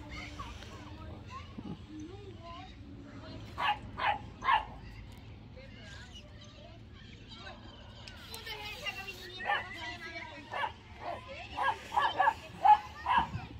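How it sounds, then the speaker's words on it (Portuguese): Small dog yapping in a quick cluster of sharp barks, then another burst of yips later, mid-distance over low background hum and faint talk. "É um cachorrinho."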